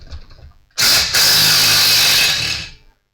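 A DeWalt 20 volt cordless impact wrench rattles loudly in one sustained hammering burst of about two seconds, working on an old junk engine, with a brief dip early on before tapering off.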